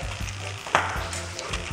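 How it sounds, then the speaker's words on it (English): Bacon sizzles and crackles steadily in a pan, with a brief sharper clatter partway through. "It's already sizzling."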